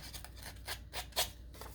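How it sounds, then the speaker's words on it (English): Scissors snipping and rasping along the edge of a fabric zipper tag to rough it up, several short close crisp cuts in an uneven rhythm with no talking. "You can distress it a little bit with your scissors along the edge, so it's a little bit rough and tatty."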